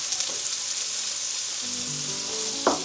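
Steak pieces stir-fry in a pan over a high flame with a loud, continuous sizzle and a brief scrape of stirring at the end. No talking.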